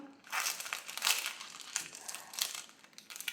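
Paper crinkling and tearing in short rustling bursts, close and fairly quiet, during paper flower crafting with no talking.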